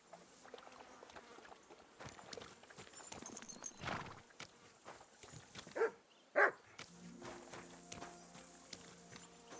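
Horse hooves clip-clop in the video game Kingdom Come: Deliverance II, a quiet, irregular patter of steps under soft background ambience, with a few brief louder knocks standing out.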